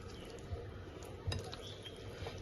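Spoon mashing boiled jackfruit with spices in a bowl, with faint, scattered clinks and scrapes against the bowl, a louder knock near the middle, over a quiet background.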